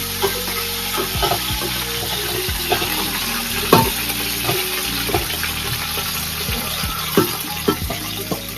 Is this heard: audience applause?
no